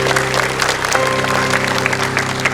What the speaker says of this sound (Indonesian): boleh dong kita berikan tepuk tangan meriah untuk 11 tahun iNews Media Group